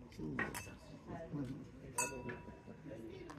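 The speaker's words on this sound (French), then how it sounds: "Et comme tout bon français, eh ben on va trinquer, hein?" Glasses and cutlery clink sharply a few times during a toast among friends, close and bright, with people talking under and between the chimes.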